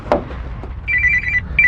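A telephone rings with a return call, giving short trilling bursts of electronic ringing in two quick spurts after a soft knock, fairly close in a quiet office room.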